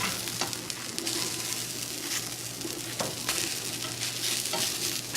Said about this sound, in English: I like to keep them, most of my onions in like a group, so I can stir them around easier